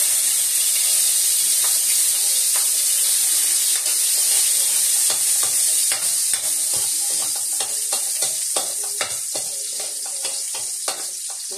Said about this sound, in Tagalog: mainit na po ito mga kaguro. Lagay na po natin ang bawang.